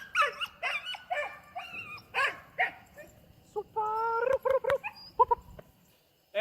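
A high-fight-drive pitbull barks and whimpers in a run of sharp, close yelps and whines during an on-leash training session around other dogs, loud bursts with short gaps.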